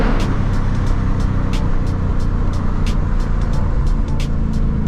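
A Ford Mustang Mach 1 on Steeda dual race springs drives along, its engine making a loud, steady low roar heard from inside the car, with faint ticks and clicks above the drone and no talk.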